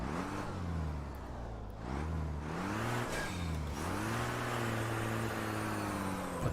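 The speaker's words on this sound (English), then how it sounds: "It's a diesel engine, so it will sound like a truck." A turbocharged diesel Formula Truck racer in the Automobilista VR sim at Tarumã revs and accelerates through gear changes, its low engine tone climbing, dipping between shifts and rising again, loud and close with no talk.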